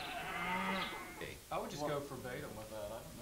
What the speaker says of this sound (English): Hear the cows mooing outside our windows and shuffling around.